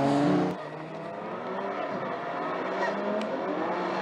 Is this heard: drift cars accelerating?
yes